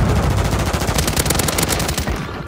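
Rapid automatic gunfire rips through a Call of Duty Warzone (MW3) match, dense bursts of close shots in quick rhythmic succession, loud and sustained before tapering off at the end.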